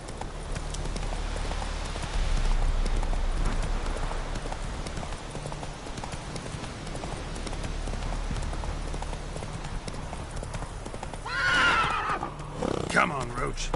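Roach the horse gallops in a video game with rhythmic hoof clip-clops under steady rain-like ambience, then lets out a loud, close neigh near the end while a voice speaks briefly.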